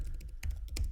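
Fingers tap out a prompt on a computer keyboard in a short burst of close, crisp keystrokes with an irregular rhythm, ending in a couple of firmer presses.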